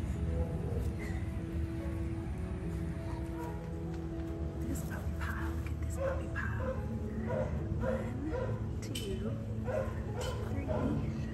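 Several puppies in a heap bark, yip and whimper in quick irregular bursts throughout, close and fairly loud, mixed with a voice talking to them.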